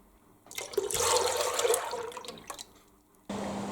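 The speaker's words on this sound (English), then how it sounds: "the pulp has been straining overnight, so we are now measuring it and adding it back to the preserving pan" Strained fruits-of-the-forest pulp pours into a preserving pan in a steady liquid splash, building over about two seconds, then tapering off before a brief louder clatter at the end.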